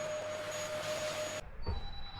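A household vacuum cleaner runs steadily with a whining hum in a garage during motorcycle gearbox work, then cuts off abruptly partway through, followed by a brief clunk.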